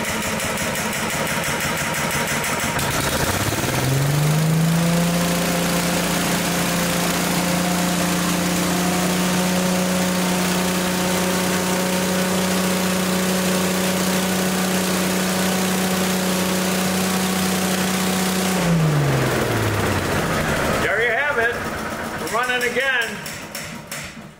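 A small engine rebuilt with new piston rings and gaskets revs up, holds a steady droning idle for about fifteen seconds, then winds down and stops, loud and close, with a person talking over it.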